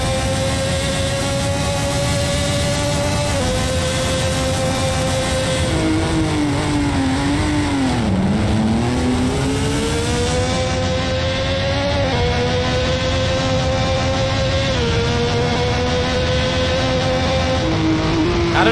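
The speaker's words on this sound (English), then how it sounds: "I'd say this Nissan is definitely the loudest of all the cars here on track." A Nissan GT-R DTM race car engine in a racing video game screams loud and continuous at high revs, pitch dipping briefly as it lifts and shifts, then climbing again around the Interlagos circuit.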